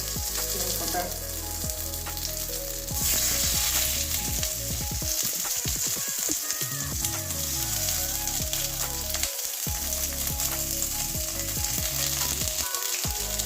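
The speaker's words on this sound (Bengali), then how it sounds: "হালকা করে এবারে গ্যাসের আশটা কমানো আছে এইভাবে আমি ভেজে নেবো" Broad beans packed with a spice stuffing fry in a pan over lowered gas heat, giving a steady, loud sizzle with intermittent clinks and scrapes of a utensil throughout.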